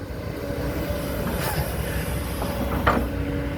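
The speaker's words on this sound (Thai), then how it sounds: "โอ้ รถดำวิ่งคันเดียวครับ" A black ROCKY dump truck passes an excavator site while a new pit is being opened, giving a steady low engine and road rumble with faint rattles and a brief brighter clank near the end.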